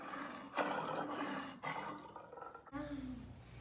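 Preschool children in a circus-themed stage show roar together like lions, a loud group roar imitating big cats, cut off partway by a brief pause and a higher vocal sound.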